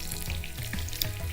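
Veal scallopini sizzles steadily in a hot pan with garlic cloves, a close, continuous frying crackle with scattered pops and no talking.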